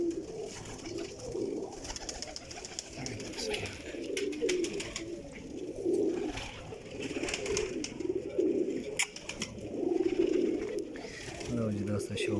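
Pigeons cooing in a loft, among them a breeding pair, with repeated low throaty coos rolling on throughout and people talking over them.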